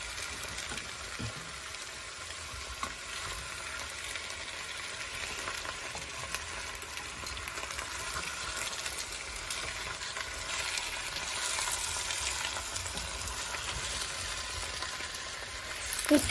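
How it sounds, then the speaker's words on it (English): Dill, onions, potatoes and peas being stirred in a pot for Greek-style peas with potatoes, a steady, soft sizzle and bubbling with faint scraping, continuous and close. "And as you can hear, probably, I'm stirring now to mix everything up."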